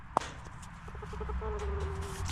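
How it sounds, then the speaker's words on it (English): Two backyard house chickens cluck softly and intermittently while being handled near their coop, with a short sharp cluck early on and a steadier tonal call later, all faint against outdoor ambience. "Before we run, these are the house chickens."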